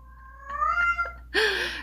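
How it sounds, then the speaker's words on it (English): A pet cat meows close by, a drawn-out tonal call followed by a louder, harsher second meow, with no talk over it. "There's my cat."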